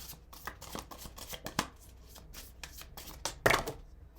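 Tarot cards shuffled by hand up close, with a run of quick papery riffles and taps and a sharper louder slap near the end, no voices.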